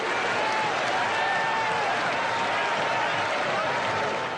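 Passionate Coritiba supporters in green and white celebrate in a stadium crowd, a dense, loud, steady roar of cheering and clapping that fills the whole stretch without a break.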